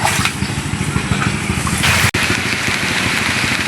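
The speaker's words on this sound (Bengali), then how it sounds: "এখন বন্ধুরা বৃষ্টি নামতেছে" Light rain falls in a garden with a dense, steady patter close by, likely tapping on an umbrella, continuing evenly apart from one sharp drop-out midway.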